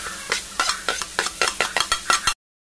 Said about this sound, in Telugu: అలాగే ఉల్లిపాయలు కొద్దిగా కలర్ మారేంత వరకు వేపుకోవాలి.